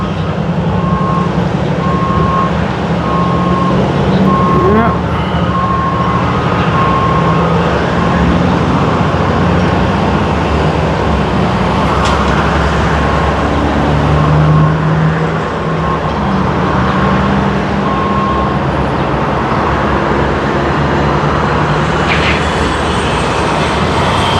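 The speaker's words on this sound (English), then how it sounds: "It is digging away the grass, and they're dumping all of that dirt and grass into that truck there." A digging machine scrapes away grass and dumps the dirt into a truck. Its heavy engine drones loudly and continuously at close range, with a broad rumble that barely varies, and no one speaks.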